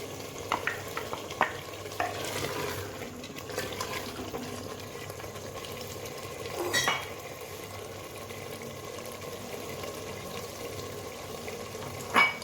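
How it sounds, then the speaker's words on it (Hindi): Chana dal being stirred into cooked bottle gourd in a pan, a quiet scraping and faint sizzle with a few soft knocks, running steadily without talk. "अब इसमें आपने चने की दाल डाल के मिक्स कर।"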